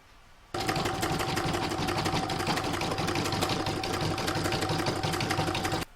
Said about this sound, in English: So next I'm going to pop it into my machine and I'm going to do round number